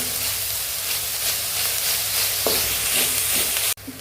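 Onions and salt sautéing in a pan for vegetable kara samosa filling, a continuous close sizzle with soft stirring scrapes and a sharp clack near the end.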